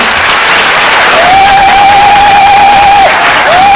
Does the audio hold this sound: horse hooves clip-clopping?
no